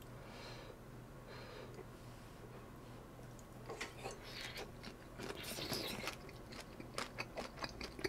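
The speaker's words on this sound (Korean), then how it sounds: "새우 이제 머리까지 먹을까요?" Large shrimp eaten whole, head included, with seafood miso stew in a home Korean meal: crunchy bites and chewing clicks start faint and grow denser and louder over the second half, close to the mic, with no talking.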